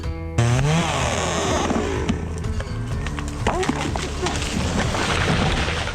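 A Holzfforma FarmerTech G660 chainsaw engine starts up and runs loudly and steadily, revving with a harsh, buzzing roar throughout.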